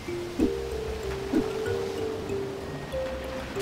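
Ambient water in the American McGee's Grimm video game, on the Fisherman and His Wife level: a steady, even wash of water over faint sustained tones, with no voices.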